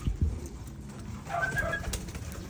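A free-flying pigeon coos softly nearby in a brief low murmur over faint background noise.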